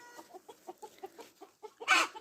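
A chicken clucks in a steady run of short, evenly spaced notes, fairly close, ending with a sharper, louder squawk.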